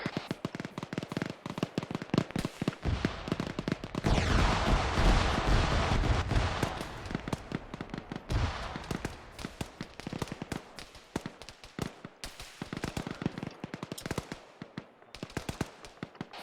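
A grenade machine gun fires in ArmA 3 combat, with rapid repeated bursts and a heavy, sustained barrage in the middle, mixed with other distant battlefield shots.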